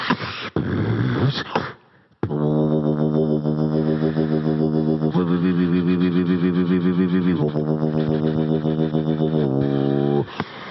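A voice imitates a dubstep robot sound, producing a long, buzzy, distorted mechanical drone that shifts in pitch and warbles rhythmically, preceded by a short breathy scrape and a brief pause.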